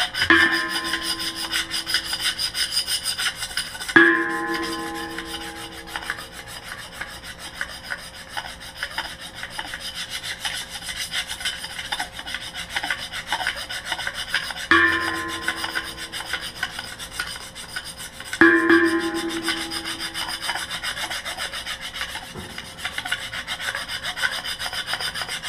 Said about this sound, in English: you're just going to scrape it right there on the blade of your knife